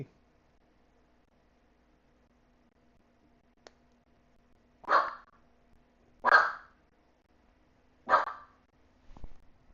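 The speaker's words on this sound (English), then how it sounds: "This dog." A pet dog barks three times indoors at moderate distance, spaced a second or more apart, with a faint click before and a soft thud after, otherwise a quiet room.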